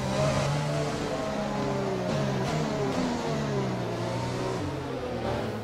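A Formula 1 car's engine in the F1 2020 video game at Monaco drones steadily with pitch shifting up and down through gear changes, loud and close throughout with no talking.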